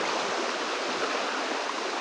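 A rural stream in the province of Southern Leyte flowing steadily, a close, even rush of water without pauses.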